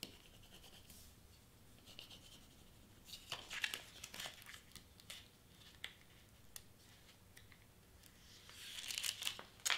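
Transfer tape for vinyl on an acrylic keychain project is handled up close, giving quiet crinkling, peeling and scratchy rustles in irregular bursts, faint and intermittent.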